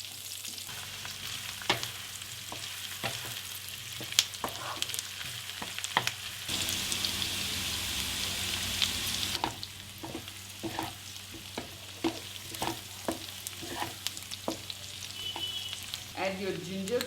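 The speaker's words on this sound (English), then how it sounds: "Stir and fry until the onions are completely cooked." Sliced onions sizzle and crackle in hot oil as a spoon stirs them around a pan, with scraping clicks of the stirring over a steady frying hiss, fairly quiet and close.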